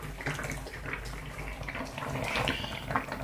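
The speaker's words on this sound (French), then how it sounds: "Et on le passe à la passoire." Hot plum liquid is pushed through a sieve with a ladle, giving a close, continuous watery trickle and splashing that swells slightly toward the end.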